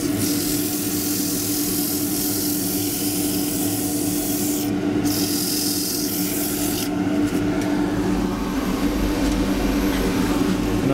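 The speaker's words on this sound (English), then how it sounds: "Now just sand that." Sandpaper rubs against a green-wood bowl spinning on a lathe, a continuous close abrasive hiss over the steady hum of the turning machine, with short changes in pressure along the way.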